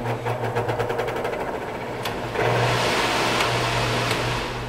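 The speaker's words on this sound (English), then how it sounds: "It's just a small little fan, blower fan." Small electric blower fan with low, medium and high settings, used for crack filling, running with a steady motor hum that rises to a stronger, louder whir partway through, heard close with no talking.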